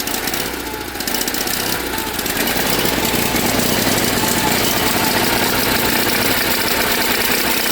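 A small engine that has just fired up runs unsteadily, a loud, close, continuous rough idle with uneven knocking that holds for several seconds, with no talk over it.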